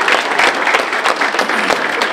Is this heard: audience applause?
yes